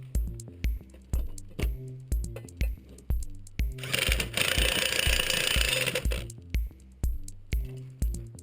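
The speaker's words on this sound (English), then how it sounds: "we'll need to torque this fastener down to impact tight" An impact wrench on an SVT Focus polyurethane passenger-side mount installation hammers in short rapid bursts, then a long continuous burst, then more short bursts, loud and close with no talking.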